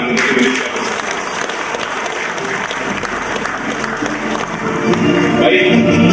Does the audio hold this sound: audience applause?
yes